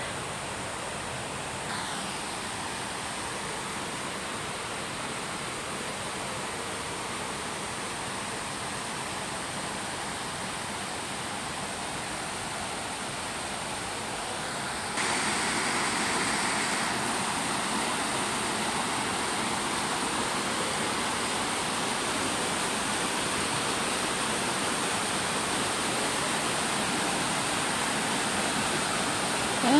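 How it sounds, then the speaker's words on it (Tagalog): Rushing water of Tso Kung Tam waterfall in Tsuen Wan, Hong Kong, a steady broadband roar with no voices that grows noticeably louder about halfway through and holds constant. "Maririnig mo na yung ingay ng tubig."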